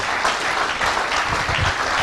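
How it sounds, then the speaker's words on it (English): A congregation gives Jesus a beautiful clap, a loud, dense, continuous wash of applause from many hands filling the room without pause. "give Jesus a beautiful clap for one more time"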